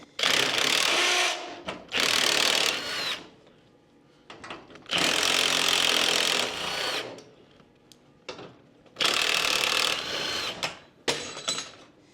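A ratchet wrench with a 7/16 socket turns the hinge bolts on a garage door, loud bursts of rapid ratcheting clicks in four or five runs separated by short pauses.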